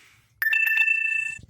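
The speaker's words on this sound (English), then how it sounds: "I know my phone keeps beeping here" A single electronic phone tone chimes suddenly, a bright ringing beep that holds for about a second before cutting off.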